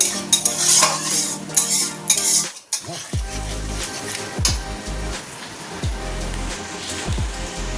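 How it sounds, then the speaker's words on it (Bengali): Spice paste being stirred and fried in a pan, a metal spoon scraping and clinking against the pan in repeated strokes over a soft sizzle, close and fairly loud, with a brief silent pause early on. "এই যে এখানে মশলাটাকে কষাচ্ছি"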